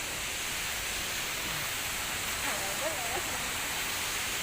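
River water flows in a continuous broadband rush outdoors in a natural setting, steady and moderately distant, with faint indistinct voices drifting in partway through.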